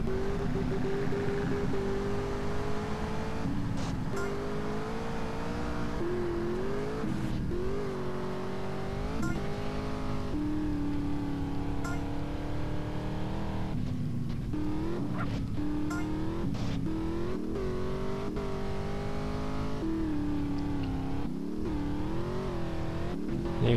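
A car engine in the game GTA San Andreas drones loudly and continuously while driving, revving up and down through gear shifts with occasional tire noise, close and steady throughout, with no talk.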